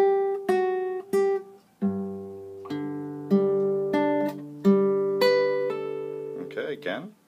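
Slow fingerpicked acoustic guitar plays an intro, clear single plucked notes and bass tones ringing out one at a time with gaps, ending with a brief scrape of strings.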